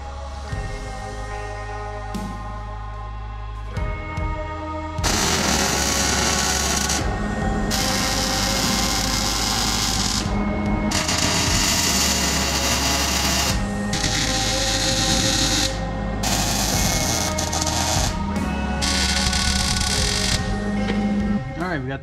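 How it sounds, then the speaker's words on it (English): Welder joining steel bars into a Nissan 240sx chassis, loud crackling hiss in several long bursts separated by short pauses, close and harsh, with no talk over it. "I'm gonna start welding that one in all the way"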